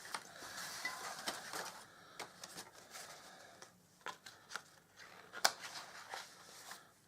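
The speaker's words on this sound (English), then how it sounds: "I'm just going to cut notches out of there." Scissors snip notches out of a paper gift bag, a quiet, irregular run of short crisp cuts and paper rustles, close up with no talk.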